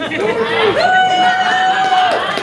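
Audience at a stand-up comedy show cheering and whooping for a first-time comedian, a loud steady roar of crowd noise with a rising cheer that holds throughout.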